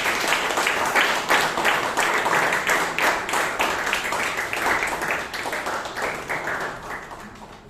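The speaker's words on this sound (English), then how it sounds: "Big round of applause" Audience applause fills a Toastmasters club meeting in Bangalore, a dense, steady wash of many hands clapping that carries loudly through the whole stretch and eases slightly toward the end.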